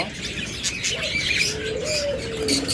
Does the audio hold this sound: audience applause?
no